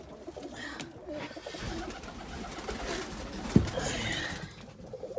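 Pigeons coo softly in a loft of young tipplers, homers and rollers, a low murmuring burble with rustling and one sharp knock, distant and quiet.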